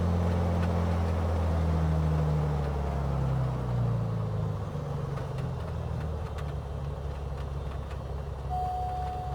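Simulated aircraft propeller engine idling at around 500 RPM in Microsoft Flight Simulator, a steady low droning hum with layered rumbling tones that holds constant throughout, with no talking.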